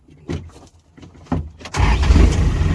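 A Toyota-engined mini skidder buggy coughs and catches through a few short, uneven bursts, then settles into a loud, steady close-up engine run that holds to the end.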